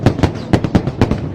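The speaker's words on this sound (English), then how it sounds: "Fireworks are certainly making themselves known." Fireworks at a Chinese Lunar New Year show in Hong Kong, a rapid run of loud, sharp bursts and crackles close by, about six cracks in quick uneven succession with no voices.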